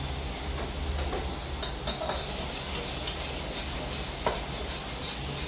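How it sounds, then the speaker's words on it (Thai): Garlic stir-fried in a pan for a ginger beef dish, a steady close sizzle with occasional scraping clicks of the utensil, no voices. "ผัดกระเทียม หอมสิ หอมมากกระเทียม"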